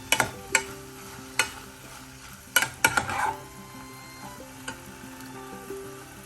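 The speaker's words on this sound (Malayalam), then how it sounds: "ചെറുതായി ഒന്ന് ഇളക്കി കൊടുക്കാം" Green banana and green gram stir-fry being stirred in a pan, with a soft background sizzle broken by several sharp scrapes and clinks of the spatula against the pan, irregularly spaced and close by.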